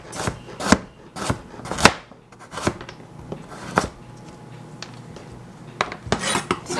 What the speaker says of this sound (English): So I'm just going to chop up this carrot, put this carrot in the crock pot here